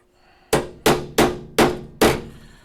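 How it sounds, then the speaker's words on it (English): Five sharp hammer blows bend the edge of sheet metal to sit flush against a piece for welding. They land close and loud at a quick, slightly uneven pace, and each ringing strike decays fast. "What I'm doing is I'm just trying to bend the edge of the metal as close to what you're welding it to."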